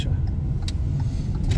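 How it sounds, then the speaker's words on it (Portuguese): A car passes on a street during a driving-school turning lesson, giving a close, steady low engine rumble with faint higher rattles over about a second and a half. "Aqui a gente vai esperar um pouquinho o carro passar"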